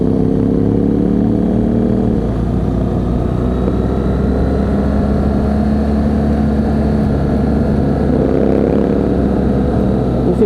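A BMW GS motorcycle rides along with a steady, loud engine drone and rising and falling tones as it shifts, continuous and close throughout, with no talking.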